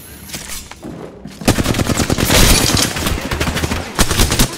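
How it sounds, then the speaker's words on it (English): Rapid bursts of automatic weapon fire from Pathfinder's gun in Apex Legends, loud and close, starting after a brief lull and continuing in dense, repeated volleys with a few short gaps. "Opening fire on the enemy."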